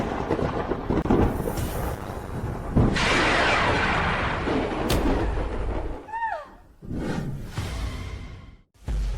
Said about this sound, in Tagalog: Tamaan talaga siyang kidlat.